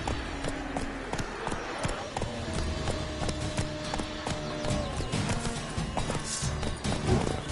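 Horse galloping in The Witcher 3 on PS5, with rapid, rhythmic hoofbeats close by and loud throughout, mixed with game ambience and an occasional snort or whinny.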